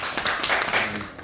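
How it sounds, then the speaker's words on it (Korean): Audience clapping at a seminary graduate-school lecture, a short, close burst of brisk hand claps lasting just over a second with no talking. "박수 한번 주십시오."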